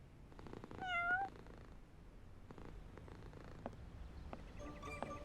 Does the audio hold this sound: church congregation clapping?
no